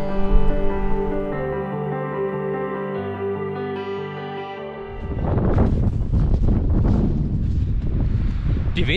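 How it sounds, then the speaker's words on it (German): Strong wind buffets a microphone outdoors near a green mountain lake in bad weather, a loud rushing roar that swells and gusts through the second half after a quieter tonal stretch. "der Wind bläst mich fast weg."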